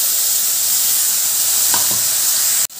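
Onion, garlic and tomato paste hits hot oil in a pan, giving a steady loud sizzle and hiss throughout, with a couple of faint stirring scrapes near the end before a sudden clatter.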